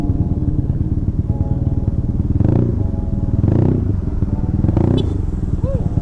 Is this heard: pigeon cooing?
no